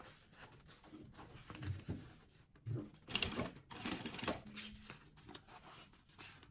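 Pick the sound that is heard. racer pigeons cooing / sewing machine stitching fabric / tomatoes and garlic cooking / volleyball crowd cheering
sewing machine stitching fabric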